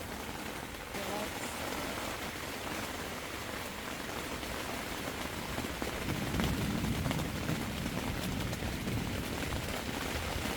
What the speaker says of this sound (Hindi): बारिश तो ख़त्म होने का नाम नहीं ले रही